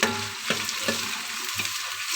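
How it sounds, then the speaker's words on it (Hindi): Tomatoes sizzle in a pan for a mixed vegetable curry, a steady soft frying hiss broken by a few scraping stirs of a spoon against the pan, close and moderately quiet with no talk. "अब इसमें टमाटर डाल रही हूँ, इसको भी थोड़ा सा भून के आधी हरी मिर्ची डाल देती हूँ।"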